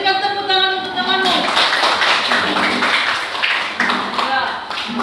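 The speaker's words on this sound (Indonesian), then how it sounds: "Berikan tepuk tangan untuk temanmu." Schoolchildren in a classroom clapping for a classmate, a brisk patter of hand claps rising after a voice and continuing under chatter.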